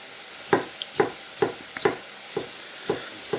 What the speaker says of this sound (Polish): Czyli tak kroimy w ten sposób kroimy ogórki, zobaczcie.